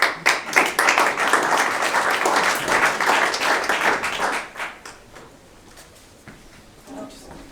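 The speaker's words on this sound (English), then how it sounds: "if we can give them a round of applause, it would be great" An audience at a cybersecurity talk gives a panel a warm round of applause, dense clapping that swells then tapers after about four seconds, followed by quieter room sounds and a brief voice.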